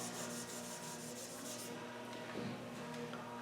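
Wet sanding of clear coat on a 1955 Buick Century with 1500-grit sandpaper produces a faint, steady rubbing hiss of back-and-forth strokes with no talking.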